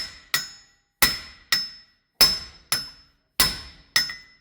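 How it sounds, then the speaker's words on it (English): Seven sharp metallic clanks from a ball peen hammer striking the wheel hub assembly of a 2016 Subaru Impreza during a wheel bearing replacement, spaced irregularly about half a second apart, loud and close with quick ringing decays. "We'll give it some more with the ball peen, and then we'll transfer over to the big boy 4-pound sledge."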